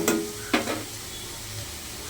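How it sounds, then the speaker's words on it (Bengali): Onions sizzle in a pan while a spoon stirs them, giving two sharp scraping strokes over a low, continuous frying hiss. "দেখুন, পেঁয়াজ ভাজা হয়ে গেছে।"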